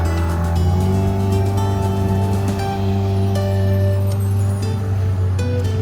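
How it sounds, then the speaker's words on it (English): A motorized dinghy's motor drones steadily and loudly throughout, with a constant mechanical hum and a few higher whines shifting slightly in pitch. "Taking the dinghy for a test ride."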